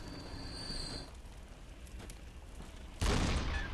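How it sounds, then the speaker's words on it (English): A cannon fired in the video game Bloodborne, a sudden loud broadband boom near the end following a stretch of low rumbling game ambience. "If you want to, you can actually shoot the cannon."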